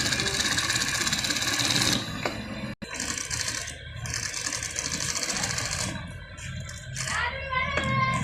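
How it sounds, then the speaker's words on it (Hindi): A tailor's sewing machine runs a double row of stitching in loud, fast mechanical bursts, with a brief pause and a sharp click partway through, then more whirring and rattling of the mechanism. "इसके साथ डबल सिलाई।"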